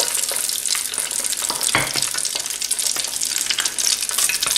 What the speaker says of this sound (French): je vais passer à la friture de mes grillwash façon fleur.